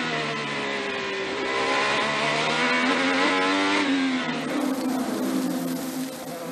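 Onboard engine of an IndyCar race car at the Long Beach Grand Prix street circuit, a loud, continuous high-pitched turbo engine wail rising and falling with throttle and gear changes, close and dominant with no talk.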